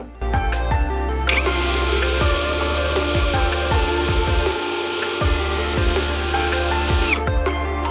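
A GRAND DA-20/13UBL Pro cordless drill-driver spins at first speed, its steady motor whine running loud and close for several seconds, with a brief start and a falling stop near the end and some knocking underneath.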